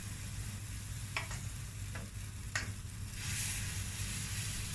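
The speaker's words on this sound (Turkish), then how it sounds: "Hepsini bu şekilde kızartacağım." Spoon-dropped Turkish fritter batter sizzles and crackles steadily in hot oil in a pan, with a few light clicks of a utensil against the pan.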